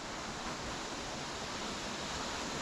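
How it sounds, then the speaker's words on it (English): Water spills steadily over a small waterfall on the River Wansbeck, a constant soft rushing hiss that stays even throughout, with no voices. "I can see the water running down over the little waterfall down there to the right."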